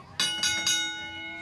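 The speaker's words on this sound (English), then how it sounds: "Referee Orville Mohawk Houston has called for the bell" Wrestling ring bell rung three times in quick succession at the start of a match, bright metallic clangs with ringing overtones that linger and fade, heard over low crowd and commentary murmur.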